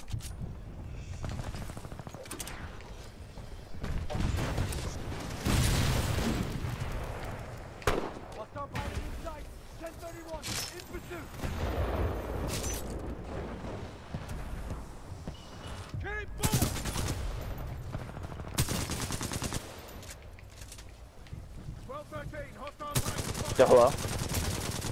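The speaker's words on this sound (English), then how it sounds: "I was not expecting a salvo core there" A Titan's salvo core missile barrage in Titanfall 2 pounds out in clustered volleys of blasts and heavy fire, loud and sustained, with a voice speaking between the bursts.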